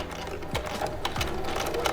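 Sewing machine back stitching a bag seam, a continuous motor hum broken by a few short thumps as the stitching direction changes.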